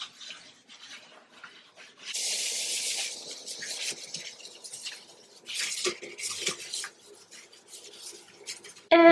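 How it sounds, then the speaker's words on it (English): A sink is scrubbed hard with Comet bleach cleaning powder, giving repeated close, gritty rubbing strokes in uneven bursts with short pauses between them. "So now let's go in there and really scrub."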